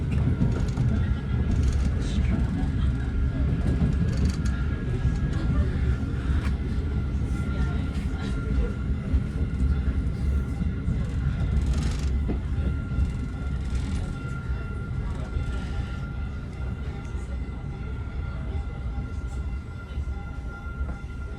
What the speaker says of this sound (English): here we are pulling into Millbrae Station, and I'm about to be getting off this train right now